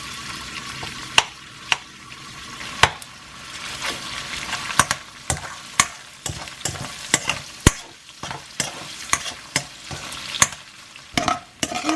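Ground pork fries in vegetable oil with a steady crackling sizzle, broken by sharp repeated scrapes and clacks of a utensil stirring the pan, close and clear, with no talking.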